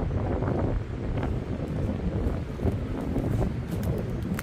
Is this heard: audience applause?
no